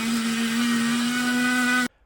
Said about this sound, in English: So get out the multi-tool, cut out a nice little square so the magnet can fit there